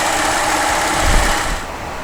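A 2007 GMC Acadia engine idles in a steady, loud drone with a slight dip and fade near the end.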